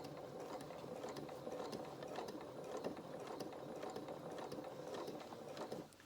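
A sewing machine stitches the seam of a Luna Lapin toy's body and limbs, a quiet, fast mechanical whirr with rhythmic ticking that runs steadily and stops just before the end.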